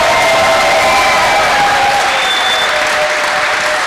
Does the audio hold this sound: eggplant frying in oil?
no